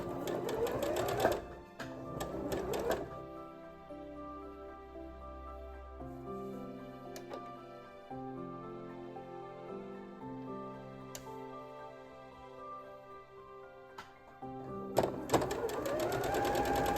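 A sewing machine stitches quilt block pieces for a holiday quilt, running in steady rhythmic bursts with short pauses between, close and clear, with faint handling noise and no talk.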